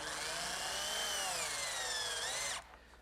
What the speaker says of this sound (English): I'm just going to take a screw and partially drive it in to sort of give me like a pilot hole.